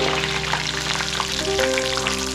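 Washed and dried curry leaves fry in hot oil for a mango ginger pickle, producing a loud, dense, steady sizzle that stays close and continuous throughout.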